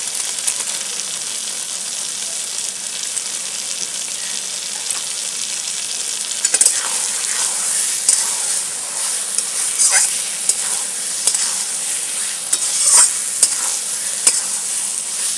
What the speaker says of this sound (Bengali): ভালো করে কষে দেবো বন্ধুরা মশলাটাকে, যাতে মশলার কাঁচা গন্ধটা পুরো বেরিয়ে যায়।